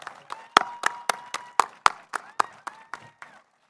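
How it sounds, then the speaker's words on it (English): Applause at a university physician assistant white coat ceremony, heard as a short run of distinct, sharp claps in a loose rhythm, loudest in the middle and thinning out before fading to quiet, with faint tonal sound behind. "Let's give them all a big round of applause."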